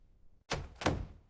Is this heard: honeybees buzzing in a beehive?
no